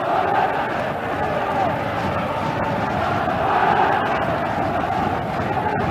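Scottish football fans in a stadium at a Euro 1988 qualifier against Ireland, a continuous loud roar of crowd chanting and cheering. It holds steady throughout, with sung tones rising above the mass of voices.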